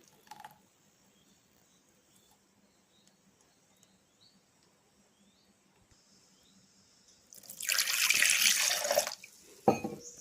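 After a long near-silent stretch with faint clicks, water splashes and swirls loudly for a couple of seconds as a grinder jar is rinsed out after grinding dosa batter.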